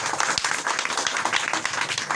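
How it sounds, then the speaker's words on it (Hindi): Audience applause at a business seminar in India, a dense steady wash of clapping lasting a couple of seconds at moderate level, with no talk over it. "जोरदार ताली इस बार।"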